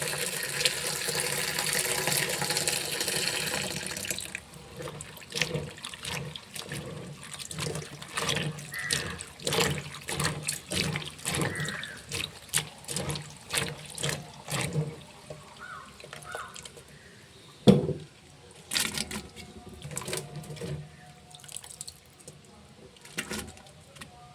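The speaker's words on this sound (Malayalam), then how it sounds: "നല്ലതുപോലെ കഴുകി കലത്തിലോട്ട് വേവിക്കാൻ വേണ്ടി" Jackfruit is washed by hand in water before going into a cooking pot: a rush of running water at first, then repeated close splashing, sloshing and dripping in an irregular rhythm.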